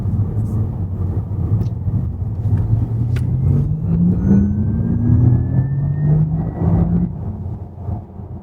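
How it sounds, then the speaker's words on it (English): A Porsche Taycan electric car accelerating with its synthetic sport sound, a smooth tone climbing steadily in pitch over a constant rumble of road noise inside the cabin, with no talk over it. "So let's see how the acceleration goes on the Porsche Taycan."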